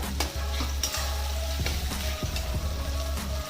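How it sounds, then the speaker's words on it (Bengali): Onion, garlic, chopped tomato and green chilli fry loudly in hot oil, a dense close sizzle with several stirring scrapes against the pan over a low steady hum. "পেঁয়াজ রসুন একটু ভাজা হয়ে গেছে, এবার দিয়ে দেবো টমেটো কুচি।"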